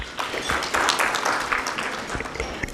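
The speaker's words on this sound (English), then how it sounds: "Big round of applause to him again." An audience at an investor breakfast event for a leather park in Kenya gives a short burst of applause, loud and dense throughout.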